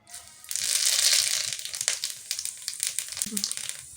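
Spices dropped into hot oil burst into a loud, close sizzle that fades into crackling spits and pops while frying continues, as part of cooking a fish and eggplant curry.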